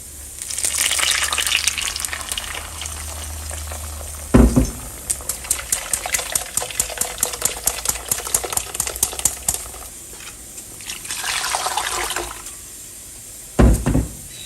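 Blended sauce goes into a pan with a splash of oil and sizzles loudly up close: a steady hiss and bubbling, broken by rapid ticking sputters and a few sudden pops and splashes.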